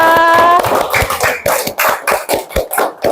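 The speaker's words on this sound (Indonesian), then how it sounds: "Oke, tepuk tangannya untuk Sinta." Classroom applause for a student at an elementary school, a short burst of uneven hand claps from a group of children following a brief tone, rhythmic and fairly close.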